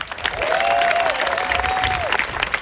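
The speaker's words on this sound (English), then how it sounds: "Give them one more round of applause." A crowd applauds with steady, dense clapping that fills the room from start to finish.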